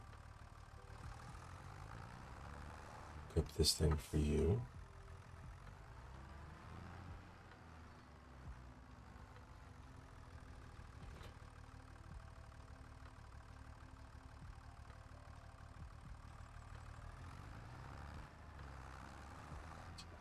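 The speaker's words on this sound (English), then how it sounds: "Right, little green tractor." Small green tractor idling on a dairy farm in Alma, Missouri, a steady low engine drone running throughout, broken early by a few loud clunks, with someone speaking briefly.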